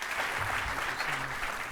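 Audience at an evening CME Group lecture on global financial markets hosted by the Chicago Council, clapping steadily to welcome Leo Melamed to the podium, a full even applause heard alone.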